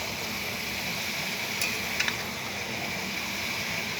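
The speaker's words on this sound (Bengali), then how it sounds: "এখন খুন্তি দিয়ে নাড়তে নাড়তে দেখুন অল্প হয়ে গেল" Shredded cabbage stir-fries in a kadai, a constant soft sizzle with a couple of light metal spatula taps near the middle.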